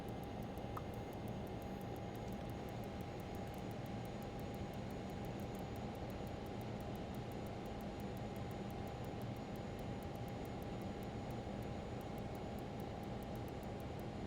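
A LearJet business jet's engines hum in a flight simulator game, a steady, even whine and broadband roar holding constant throughout with a faint high tone, no speech.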